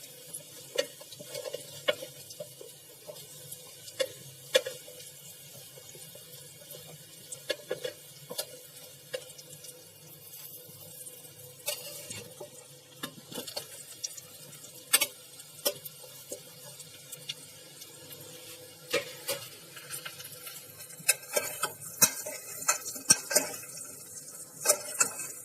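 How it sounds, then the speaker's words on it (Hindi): Potato and yam pieces frying in hot oil for Kashmiri dum yam, a quiet, steady sizzle with scattered sharp crackles and occasional stirring clinks throughout. "अब हम इसके अंदर आलू और जिमीकंद डाल रहे हैं।"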